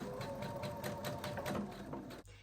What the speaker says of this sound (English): we're going to complete this seam by stitching down our hole